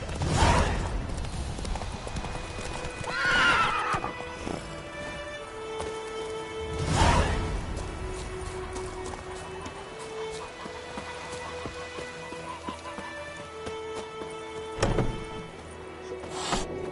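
Horse hooves clip-clop in a video game, a steady near trot of hoof beats with a few louder thuds and whooshes, set against soft game music.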